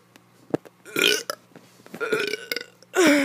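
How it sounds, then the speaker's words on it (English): A child lets out a series of loud, gurgling burps, several short ones followed by longer drawn-out belches, close to the mic with quiet gaps between them. "if you like my burps"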